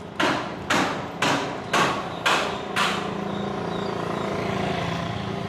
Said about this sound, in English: I'm hearing hammer.